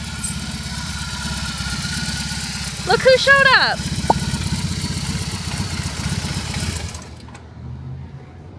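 A motorcycle engine idles steadily nearby with a low, even rumble while a person speaks briefly over it; the engine sound cuts off shortly before the end.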